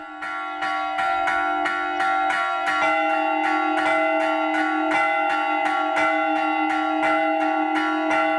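Church bells in a bell tower in Minas Gerais, Brazil, rung by hand by bell ringers, strike in a rapid, regular sequence, with overlapping ringing tones that sustain loudly the whole time.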